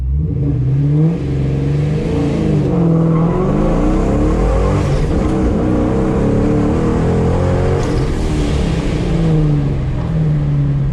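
A powerful V8 1999–2004 Ford Mustang GT launches and accelerates hard, engine revving loudly through the gears, with a brief tire chirp and no voices.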